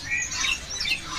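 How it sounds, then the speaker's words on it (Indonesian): A cucak pantai bird from Sorong gives harsh, high squawking calls that repeat several times over a low background hum, fairly close and moderately loud. "Nah, cucak pantai lokalan Sorong."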